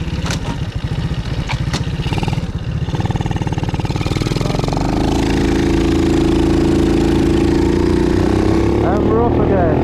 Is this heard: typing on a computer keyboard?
no